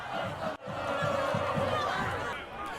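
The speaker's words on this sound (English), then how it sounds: "and crowds cheering." A crowd cheering and chattering in the stands at a Friday night high school football game, a dense steady roar of voices with a brief dropout near the start.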